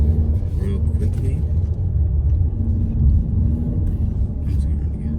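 A 2020 Ford Mustang with the 332 hp High Performance Package circles a roundabout, its engine a steady low rumble with road noise throughout, loud and close from inside the cabin.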